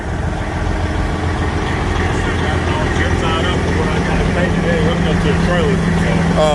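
A Cummins ISX truck engine with a stretched-out classic and 660 setup idles steadily with a deep low rumble, people talking over it throughout.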